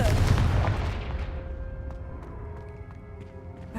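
A fiery spell explosion in a video game bursts loud and close, then rumbles and rings away over several seconds into a fading hum.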